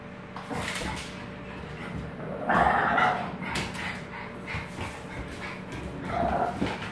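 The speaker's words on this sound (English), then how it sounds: "No barking." A dog barks and yips in short bursts with some whimpering between them, close by and moderately loud, with no talking.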